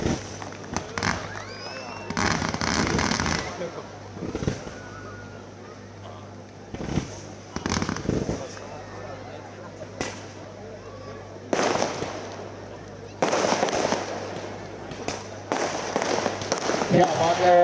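Fireworks crackle and burst at the start of a local cricket match, sharp irregular bangs and bursts of crackling scattered across a noisy outdoor crowd background with a steady low hum.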